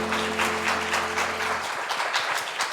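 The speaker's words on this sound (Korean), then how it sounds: "우리 하나님께 영광의 박수 올리도록 하겠습니다" A church congregation clapping during a Korean worship service, a steady even round of applause, moderately loud, with a sustained low organ-like tone fading out partway through.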